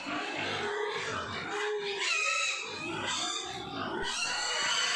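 Pigs grunt and squeal repeatedly at a pig farm in Assam where piglets are kept, the calls close, loud and overlapping throughout with no break.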